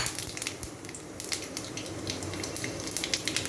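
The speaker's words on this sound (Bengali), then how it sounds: "কড়াইয়ে অল্প একটু তেল দিয়েছি, দুটো শুকনো লঙ্কা, তেজপাতা আর পাঁচফোড়ন দিলাম" Dried red chillies, a bay leaf and panch phoron fry in a little oil in a kadai, giving a close, steady sizzle broken by sharp crackles and pops. Nobody speaks.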